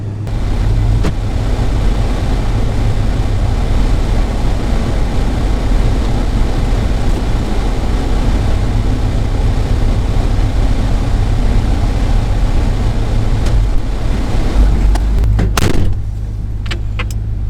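A 1970 Pontiac GTO, cold and started without the choke, idles steadily with a deep, constant engine rumble close by, a few sharp clicks or clunks near the end before the rumble drops away.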